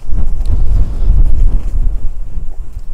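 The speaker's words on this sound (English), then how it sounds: "it's standing up to that wind" Strong wind buffets a tent on a wild camp in the Peak District, UK, during stormy weather: loud continuous low roaring and rumbling gusts battering the fabric close to the microphone, with no voices.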